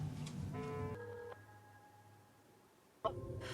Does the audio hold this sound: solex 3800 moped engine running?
no